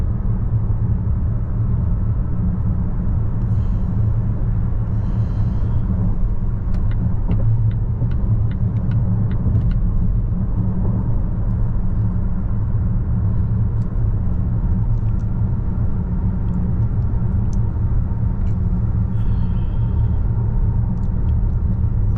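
Cabin of a 2025 Volvo XC90 cruising at about 100 km/h near 1500 RPM: a steady low road rumble and muted drone, constant and even throughout, with no talking.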